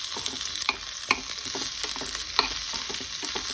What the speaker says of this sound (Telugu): ఉల్లిపాయ త్వరగానే వేయించుకోవాలి